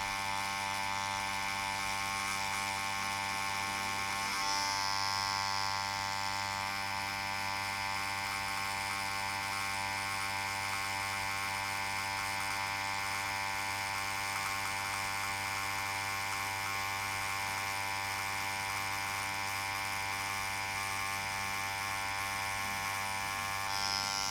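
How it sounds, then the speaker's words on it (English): A tattoo machine buzzing steadily while tattooing bold lines on skin, a continuous even electric hum with a fine high whine, close and unbroken. "When lifting the needle, I leave the skin softly, and when setting it down, I enter the skin softly again."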